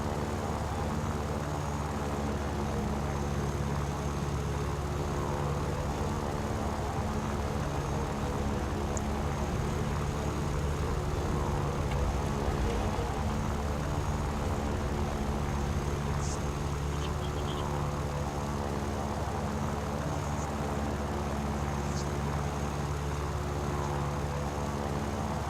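Propeller aircraft engine running at full power during takeoff in War Thunder, a steady, loud droning roar with constant tone that continues unbroken from start to finish, with no talk over it.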